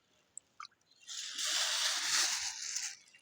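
A fish drops from a jar into a garden pond, making a soft, brief splash followed by a second or so of sloshing water, close by and fairly quiet, with a couple of small taps just before.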